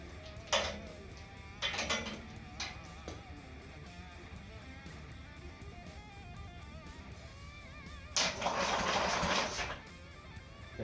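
A twin-cylinder mini bike engine is spun over by a starter powered from an S10 battery. It gives two short whirring bursts early, then a longer, louder spin of about a second near the end, over quiet background.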